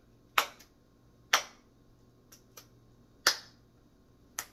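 Finger snaps performed as a demonstration of the clap-snap rhythm from an album, about six sharp snaps at irregular spacing, some strong and some faint, heard alone in a quiet room.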